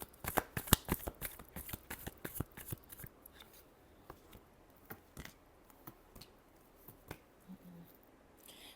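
Tarot cards are shuffled by hand in a rapid burst of crisp riffling slaps, loud and close at first, then thinning into sparse soft flicks.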